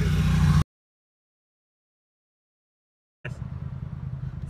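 Cars in a diplomatic motorcade roll past as a steady broadband road rumble, heard briefly at the start, then cut out to silence, then returning for the last second or so.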